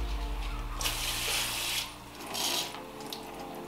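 Water running from a kitchen sink tap through a garden hose, a steady close rush that swells in two bursts over a low hum.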